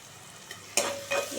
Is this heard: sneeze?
no